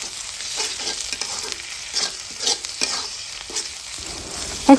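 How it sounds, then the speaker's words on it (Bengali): Spices with ginger-garlic paste, turmeric and chili powder being stir-fried for a spicy chickpea curry, with a steady soft sizzle and scraping stirs, plus a few louder clinks and knocks near the end. "এখন নেড়ে চেড়ে ভালোভাবে মশলাগুলো কষিয়ে নিতে হবে"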